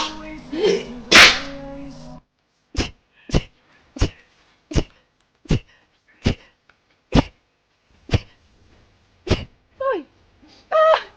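A person sneezes once loudly near the start, then lets out a rapid string of about a dozen short, sharp sneezes spaced roughly half a second apart. A couple of brief voiced sounds come near the end.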